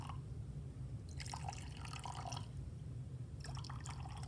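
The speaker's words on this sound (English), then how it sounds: "So we add some water to these" Water runs into a mixture of materials set out for a dissolving demonstration, two bursts of splashing pour separated by a pause, close and moderately loud over a low background hum.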